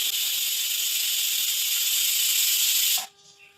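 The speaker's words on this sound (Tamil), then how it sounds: "குக்கர் லாக் பண்ணிட்டு ஒரு 2ல இருந்து 3 விசில் வச்சு எடுத்துக்கலாம்" A pressure cooker used to cook tomatoes for a dry fish tomato pickle lets off a loud, continuous steam hiss close by for about three seconds, then cuts off abruptly to near silence.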